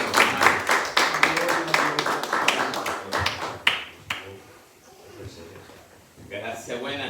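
A church congregation claps together for a brother in the faith, a dense patter of hand claps that thins and dies away after about four seconds, followed by quieter room sounds and a voice speaking.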